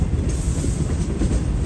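A passenger train on the Pakistan Railways Lahore to Karachi route rumbles steadily and loudly, its wheels clacking rhythmically over the rails in a short burst with no voices.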